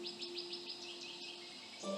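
Faint, distant birds chirp in a quiet indoor space, a run of quick high repeated chirps over a soft steady hum, with a brief low tone entering at the end.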